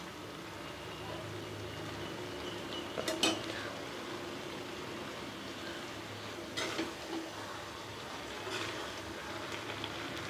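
Spatula stirring paneer masala in a pan with lemon juice just added, soft scraping and sizzling at low level with a few sharper clinks of utensil on metal.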